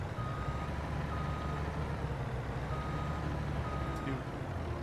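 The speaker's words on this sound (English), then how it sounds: "Especially when your truck wheels don't grip." A truck in Farming Simulator 22 backs up with steady high reversing beeps repeating over a loud continuous engine drone and rumble, no speech.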